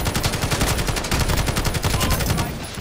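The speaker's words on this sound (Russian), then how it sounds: "давайте стандартный пулемет с обычного Battlefield" Sustained rapid burst of standard machine gun fire in the video game Battlefield 2, loud and close, an unbroken rhythmic stream of shots that tails off at the end.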